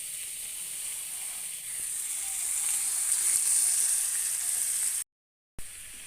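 Boiled pork pieces fry in a pan with a steady, bright sizzle that grows slightly louder partway through, then cuts out briefly before resuming.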